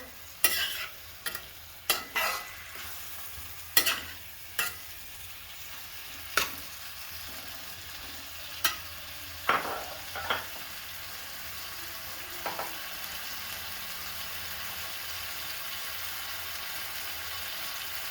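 Chopped tomatoes stirred in a pan over high gas while frying: a soft steady sizzle underneath a series of sharp scraping and clinking strokes of a spoon, spaced irregularly and fading into plain sizzling toward the end.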